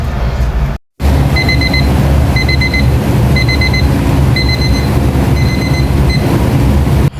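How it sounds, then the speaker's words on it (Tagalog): A kitchen timer beeps in repeated double-pulse bursts at a steady rhythm while fried fish cooks with water spinach and chili, the electronic tones sitting over a constant low background rumble. "mag-timer lang tayo ng 5 minutes"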